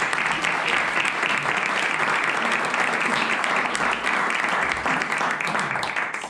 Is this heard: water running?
no